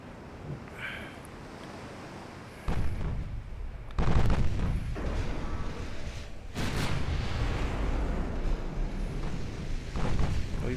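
Naval guns of battleships fire in the Ultimate Admiral Dreadnoughts video game, deep booming salvos that strike at intervals over a low rumbling background, with heavier blasts landing close together.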